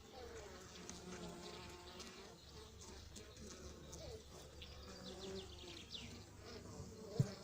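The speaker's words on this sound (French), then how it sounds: "il y a quand même des abeilles" Honeybees buzz steadily at an open hive in Noisy-sur-École, a dense close hum filling the whole stretch with a brief knock near the end.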